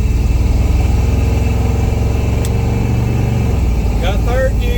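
A 1990 Chevy K1500 pickup engine runs with a steady low drone, then the pitch drops and the tone changes as the transmission shifts up through the gears. Loud, close and continuous.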